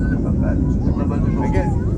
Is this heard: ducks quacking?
no